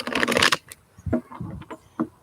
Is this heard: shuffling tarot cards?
yes